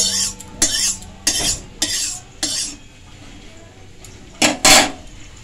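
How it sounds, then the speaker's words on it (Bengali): Soybean chunks tossed in hot mustard oil in a wok for veg Maggi, with repeated metal spatula scrapes and clinks in a steady rhythm and a faint sizzle between strokes. "সোয়াবিনগুলো এরপর ভেজে নিচ্ছি"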